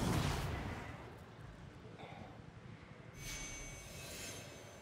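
Train in The Unspoken VR game, a steady rumbling roll with some metallic hiss and squeal, loud at first then easing and swelling again, no talk.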